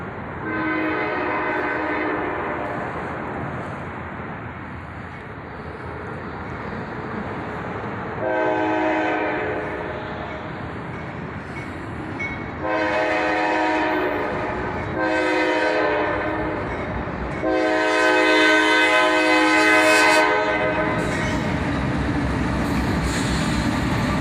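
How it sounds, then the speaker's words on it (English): A CSX northbound manifest freight train rolls steadily past, its loud chorded horn blaring in several long blasts over the continuous rumble and clatter of the railcars. "What an awesome catch, with a YN2 leader on this northbound manifest train."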